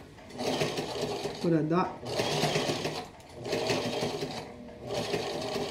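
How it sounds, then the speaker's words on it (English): A sewing machine stitches a straight line in repeated rapid whirring bursts separated by short pauses, close and clear, while people talk over it. "going to try to sew a straight line this time without me trying to put those dots?"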